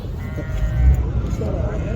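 Sheep bleat at a livestock market in Raqqa, a loud close call rising over a busy crowd murmur with people talking nearby.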